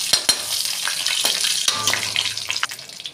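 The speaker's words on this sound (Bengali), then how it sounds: "এদিকে আমি কড়া বসিয়ে দিয়েছি, পটল ভাজা বসাবো। সর্ষের তেল দিয়েছি, তেল গরম হয়ে গেছে।" Mustard oil sizzles in a pan ready for frying pointed gourd, a steady close crackling hiss broken by a few sharp clinks and scrapes of utensils, with no voices.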